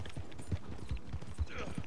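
Horse hooves clip-clop in Red Dead Online, a quick run of close, moderately loud thuds at a walking rhythm.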